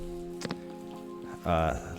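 Rain falls in a robot noir visual novel video game as a steady, soft hiss beneath faint game music tones, with a voice briefly speaking over it near the end.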